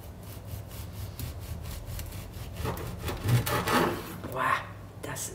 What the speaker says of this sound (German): Denkt dran, dass ihr das Brot komplett abkühlen lassen müsst, bevor ihr das anschneidet.